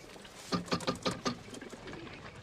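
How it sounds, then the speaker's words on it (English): Carrier pigeons cooing: five or six soft, quick pulses close together, then a quieter murmuring tail, with no talk. "most of these birds look like they can fly halfway around the block"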